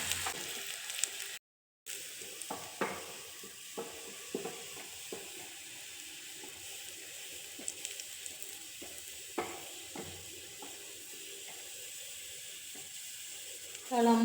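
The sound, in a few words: sautéing in a pan for Nang fish curry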